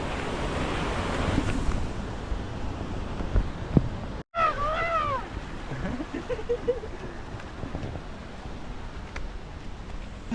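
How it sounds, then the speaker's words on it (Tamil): Loud, continuous rushing water near Bomburu Ella waterfall roars steadily close by, with a brief dropout and faint voices and birdlike chirps over it. "தண்ணியில் சத்தத்தை பாருங்க பயங்கரமாக இருக்குது"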